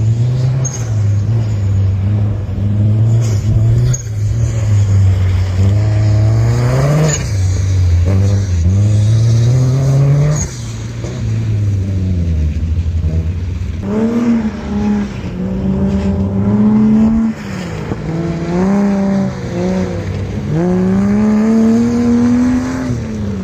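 A Porsche 944 rallycross car drives hard, its engine loud and close, rising and falling through repeated revving climbs and gear changes with a rough, strained tone throughout.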